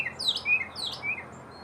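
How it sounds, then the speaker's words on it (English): Small birds chirping outdoors in the early morning, a few quick high tweets repeated in short bursts over a faint ambient hush. "you can hear the birds"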